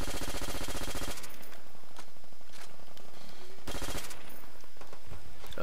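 Rapid automatic gunfire in Call of Duty: World at War team deathmatch on PS3, with loud sustained bursts at the start and again later, separated by quieter stretches of scattered shots and game ambience.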